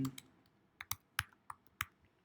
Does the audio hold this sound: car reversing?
no